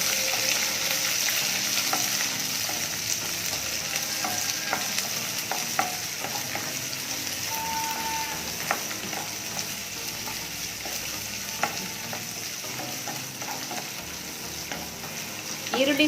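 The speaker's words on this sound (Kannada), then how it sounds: "ಈರುಳ್ಳಿನ ನೀಟಾಗಿ ಮಿಕ್ಸ್ ಮಾಡೋಣ." Onions sizzle and fry in a pan for a buttermilk sambar while a utensil stirs them, giving a steady hiss broken by scattered scraping clicks. It sounds close and continuous, with no voices.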